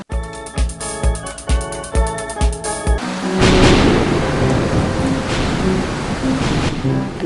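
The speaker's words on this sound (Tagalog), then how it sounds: "Umulan na naman." Rain falling in an animated scene, a dense loud wash of steady downpour that takes over after a few seconds of rhythmic music, continuing alone to the end.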